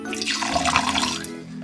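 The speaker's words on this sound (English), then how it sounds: "So I'm gonna add a little bit of water in." Water poured into a thin slime base of glue and clay, a steady close trickle running just under two seconds with no talk.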